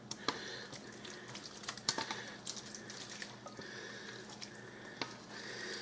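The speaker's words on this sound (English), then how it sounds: "emptying all this hot squash in here" Hot cooked squash is emptied into a casserole dish, giving a soft, wet, squishy pouring and sloshing with faint clinks, close but quiet and continuous.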